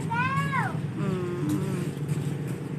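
Cat meowing inside a small burger shop: a clear, drawn-out meow near the start, then softer mewing calls over a steady room hum.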